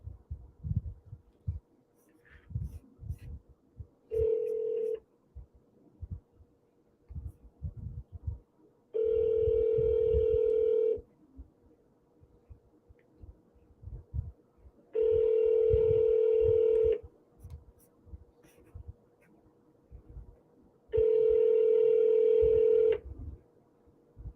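A phone on speakerphone plays dialing tones and then a run of long, loud ringback tones at even intervals, with faint background murmur between them.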